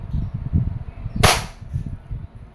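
A single sharp crack from an airsoft Glock 17 pistol fired once, close and loud, standing out against low rumbling background noise.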